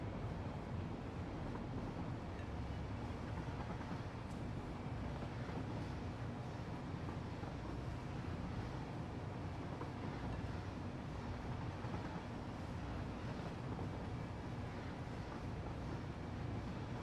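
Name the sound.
train running in a train video game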